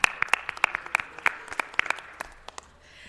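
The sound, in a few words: audience applause at city council meeting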